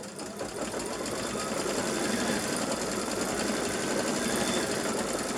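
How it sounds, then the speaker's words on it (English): A sewing machine runs steadily at speed, stitching decorative quilting scrolls, a continuous close rapid mechanical chatter with no talk. "now it's going to do the decorative stitching along here"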